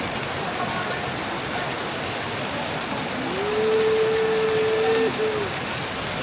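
Heavy rain pours steadily at a resort, a dense broadband hiss with a brief tonal whine rising over it near the end.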